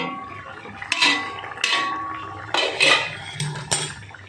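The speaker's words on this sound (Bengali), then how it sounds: "এবারে ঢাকনাটা খুলে নিচ্ছি" A metal lid comes off a cooking pot of lemon katla fish curry with a few sharp clanks and scrapes, close and clear over a quiet kitchen background.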